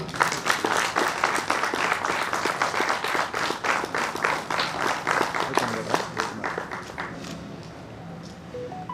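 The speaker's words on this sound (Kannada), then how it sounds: "ಚಪ್ಪಾಳೆ ತಟ್ರಿ." An audience at an event claps steadily for several seconds, a dense crowd applause with distinct individual claps that fades toward the end.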